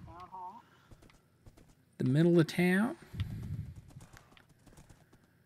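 Horse hooves clip-clop at a steady walking rhythm in Minecraft on the Xbox One, moving through a town. Someone talks over the hoofbeats for most of the stretch.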